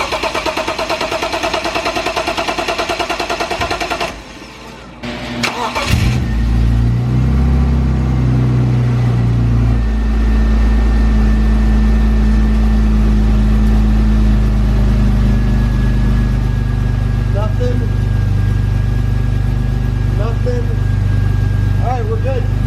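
BMW E36 328is engine cranking and firing up after maintenance, a brief crank followed by the engine catching and settling into a steady, loud low idle rumble close by, with someone speaking over it.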